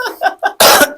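A single loud, harsh cough bursts out close to the mic, following a few short throaty vocal sounds.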